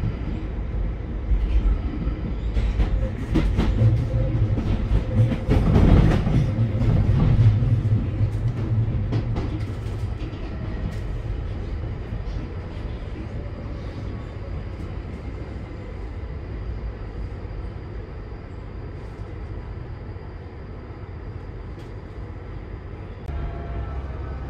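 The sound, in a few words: London Underground 1995 Tube Stock train running, Northern Line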